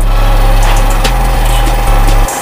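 A Hero Splendor budget motorcycle engine idles close to the microphone, a loud, steady low thrum with faint rattling, then a clear drop in pitch near the end.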